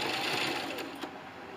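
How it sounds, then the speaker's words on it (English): A sewing machine back stitches through fabric in a short, quiet burst of rapid mechanical whirring, close by and heard alone. "I'm going to back stitch a little bit."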